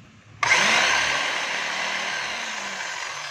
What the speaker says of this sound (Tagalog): Ito po yung jackhammer ng DeWalt na 10 kilos.